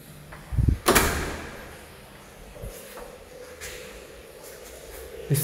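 A teak wood door in a nearly finished house gives a couple of knocking thumps as it is moved, followed by quiet room noise.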